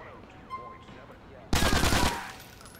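P90 submachine gun firing in Grand Theft Auto IV, one loud rapid burst of about ten shots cutting in abruptly after a quieter stretch of game noise, close.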